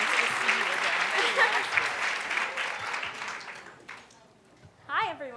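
An audience breaks into sustained applause welcoming a young woman to the stage at a Girl Scouts panel event, a dense wash of clapping hands that fades out before a voice begins speaking.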